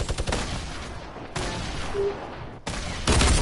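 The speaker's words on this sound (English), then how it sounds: "Minigun him to death." Sustained minigun fire in a video game comes as loud, dense rattling bursts with short breaks between them, close and forceful throughout.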